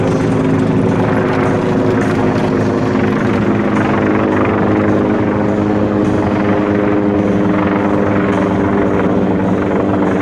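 A Sikorsky MH-53E Sea Dragon helicopter flies during a US Navy Leap Frogs parachute jump show, giving a loud, steady rotor and turbine drone that runs unbroken throughout, with no talking.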